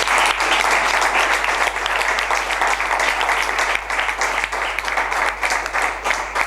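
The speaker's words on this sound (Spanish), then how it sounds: "Un aplauso a Blas Muñoz." An audience applauds Blas Muñoz at a live event, with steady, dense clapping from a full room that holds strong throughout.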